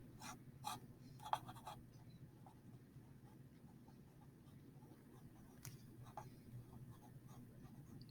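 A pen draws a triangle on paper in faint, close scratching strokes, a few brief sharper scrapes set against a quiet, low room hum.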